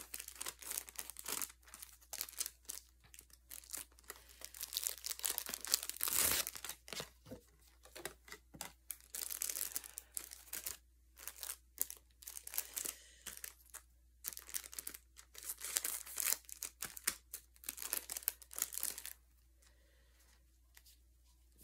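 A plastic sticker storage bag is cut open close by, a long series of quiet crinkling, snipping and rustling sounds with brief pauses and a silent stretch at the end.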